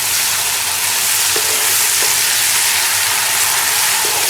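Ginger garlic paste frying in hot oil in a pan while being stirred for mustard greens saag, a loud, dense, continuous sizzle with faint scraping knocks of a spoon now and then.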